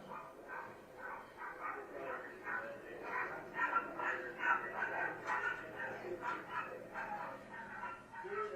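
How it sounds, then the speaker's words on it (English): A dog barks repeatedly in a played-back video recording, the barks faint and distant with a muffled, boxy quality, coming in an uneven string over low background noise. "I mean, a dog barking."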